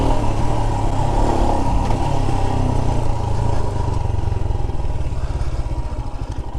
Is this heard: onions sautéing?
no